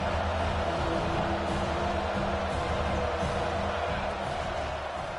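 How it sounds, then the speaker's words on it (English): Steady crowd roar from a college football video game during a third-down defensive stand, a dense, continuous wall of stadium noise that swells slightly and holds throughout. "Decibels rising as the crowd gets behind this defense on third down."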